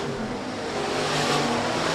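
USRA Hobby Stock race cars roar around the Rapid Speedway track in a dense, steady engine drone of a full field, loud and continuous with a slight rise in pitch.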